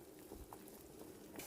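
Amla (Indian gooseberries) boiling in water in a pot, a steady soft bubbling simmer with occasional small pops, faint and close.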